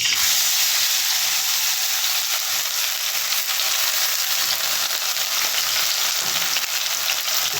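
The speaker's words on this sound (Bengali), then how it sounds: "তেলটা গরম হয়ে গেছে আর আমি ধুয়ে রাখা ডালটা দিয়ে ভেজে নেব" Washed mung dal frying in hot oil, a steady, close, dense sizzle that holds evenly throughout with no talking.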